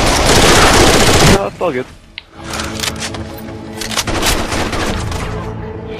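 Loud automatic gunfire rattles in Rainbow Six Vegas 2 for about a second before cutting off, followed by quieter game sounds and someone speaking briefly.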